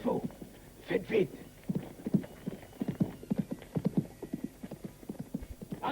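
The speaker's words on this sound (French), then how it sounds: "Là, il y a des chevaux." Horses' hooves clip-clop steadily on the ground in a Western film scene, a dense run of many hoofbeats at moderate distance, with an occasional faint whinny.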